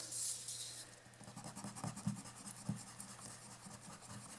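An eraser rubs back and forth on a piece of scrap paper to clean it, producing faint, close, rhythmic scrubbing strokes against a quiet background.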